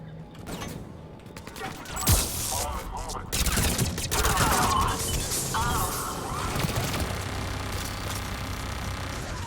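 A turret fires in the Mass Effect 3 video game, with bursts of rapid gunfire, a loud crash and mechanical clatter through a noisy combat scene.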